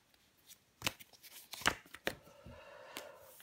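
Tarot cards laid down on a table, one card covering another, giving a few soft, close slaps and papery flicks with quiet shuffling between them.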